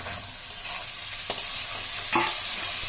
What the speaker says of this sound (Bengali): ভেন্ডিগুলো দিয়ে একটু নাড়াচাড়া করে